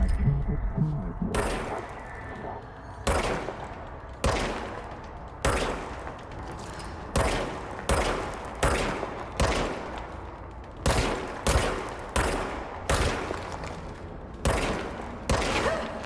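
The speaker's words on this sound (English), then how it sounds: "Now I have a gun." Gunfire from the video game Control streamed on Stadia: a long series of loud, close bursts of shots, each with a sharp attack and short decaying tail, spaced about a second apart.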